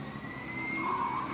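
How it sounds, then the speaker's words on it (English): An electric Formula Student race car's tyres squeal under hard cornering at a hairpin, a brief sustained high whine rising slightly over a low track rumble. "characteristic of the electric car is the squeal you get out of the tyres under hard cornering"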